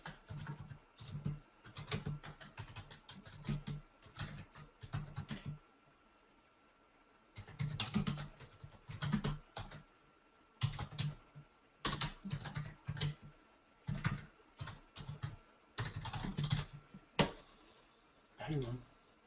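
Bursts of typing on a computer keyboard, quick clattering runs of keystrokes separated by short pauses, fairly close and quiet, with no other sound between them.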